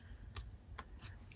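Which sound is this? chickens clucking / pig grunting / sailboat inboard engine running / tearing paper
tearing paper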